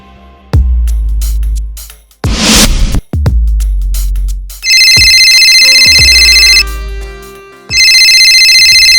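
A telephone ringtone repeats in loud electronic bursts with short gaps while a number is dialled, mixed with a few sharp thuds and a brief static rush.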